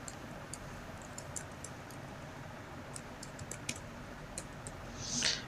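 Light, irregular tapping of keys on a computer keyboard as a party name is entered in Tally Prime accounting software, quiet clicks in small bursts with a brief louder rustle near the end.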